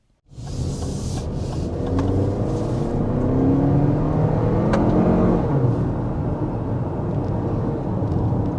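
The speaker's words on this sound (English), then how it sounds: "There's a quick punch of the accelerator with this RX 350." A Lexus RX 350 SUV accelerates hard from a quick stab of the throttle, its engine rising into a loud, sustained rumbling whir that holds steady for several seconds, with no talking.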